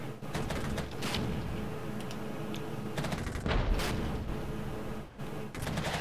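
Musket volleys in Regiments crackle and thump amid a dense, rumbling battlefield din, with scattered shots and a heavier burst near the middle, heard at moderate distance.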